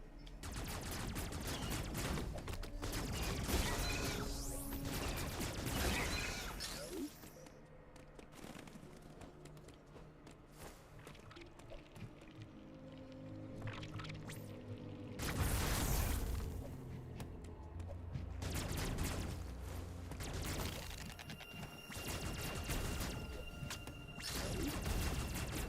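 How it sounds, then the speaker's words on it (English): Fast repeated beam shots from an upgraded rapid-fire weapon in a Metroid video game, fired in loud clustered volleys separated by quieter stretches, with occasional booms and crackles among the shots. "we have the upgrade that we can fire as fast as we can press the button"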